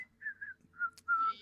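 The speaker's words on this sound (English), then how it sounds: "you just kind of hear a not so innocent whistle coming from a certain golden like" A person whistles a short, sly tune of a few rising and falling notes, close and clear against near silence.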